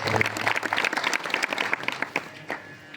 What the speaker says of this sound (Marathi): बरोबर टाळ्या वाजवा लेकरासाठी